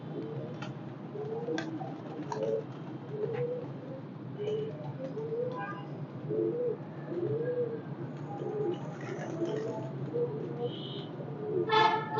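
Pigeons coo repeatedly in soft, low, rolling calls, several birds close by with occasional faint ticks in the background.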